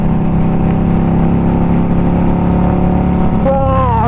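Indian Scout motorcycle engine and exhaust hum steadily near a tunnel, then rev rises in the last half second with climbing harmonics, loud and close with faint wind.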